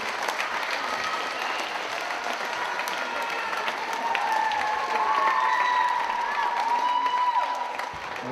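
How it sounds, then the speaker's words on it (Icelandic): Children clapping together in sustained applause for their parents at a youth basketball camp, a dense, even wash of claps lasting throughout and swelling slightly in the second half. "ég leggur að krakkarnir klappi fyrir foreldrunum"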